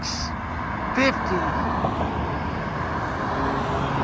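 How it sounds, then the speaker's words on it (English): Morning road traffic near Tanger Outlets at the Legends development, a steady broadband roar of passing vehicles close by, with a short voice briefly cutting in around the one-second mark. "Here's your morning traffic."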